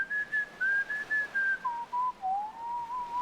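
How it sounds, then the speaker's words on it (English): A video game character whistles a wandering melody, the tune stepping down midway through in a series of clear, moderately loud phrases with short gaps, heard alone without talk. "And now he's whistling."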